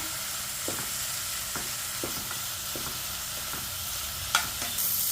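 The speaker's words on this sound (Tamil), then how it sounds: "சாம்பார் பொடியை போட்டு நல்லா கலந்து விட்டுட்டேன்" Beetroot and karamani curry with sambar powder being stirred in a pan, a low steady sizzle punctuated by about eight crisp spatula scrapes and taps against the metal, the last few louder and quicker.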